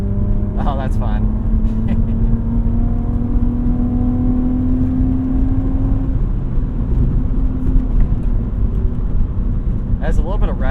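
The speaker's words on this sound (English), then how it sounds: "Has a little bit of rev hang." BMW E36 328i with an aftermarket tune, its engine revving during a drive and hanging on the revs, a sustained whirring tone that slowly climbs then drops, heard inside the car with brief chatter over it.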